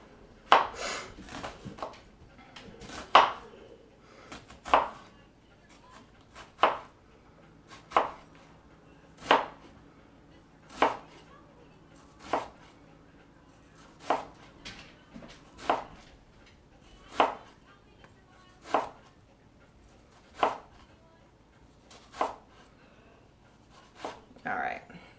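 A knife chops through a red onion on a cutting board in steady, evenly spaced strikes, each a crisp, close thud, with faint background noise between cuts.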